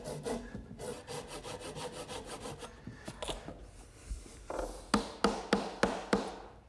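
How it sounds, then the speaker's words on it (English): Hand saw trimming a wooden dovetail joint with quiet rhythmic strokes, the pace steady at first, then slower, louder rasping pulls near the end, with no talk. "I'm just going to take my saw and run it between the joint to trim a little bit off"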